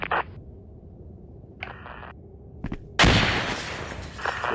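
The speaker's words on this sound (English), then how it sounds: "Where that explosion is." An explosion during an indoor intruder-style airsoft competition, a sudden loud broadband burst about three seconds in, preceded by a few short sharp bangs and followed by lingering noise.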